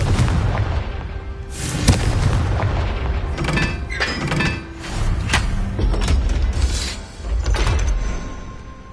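Confringo blasting spells from Hogwarts Legacy go off in a series of heavy booming explosions, several loud bursts spaced irregularly with rumbling low tails and crackling debris between them.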